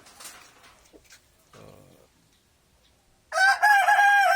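Rhode Island rooster crowing loudly and close among breeder chickens, a single long crow near the end after quieter scattered clucks and faint background sounds.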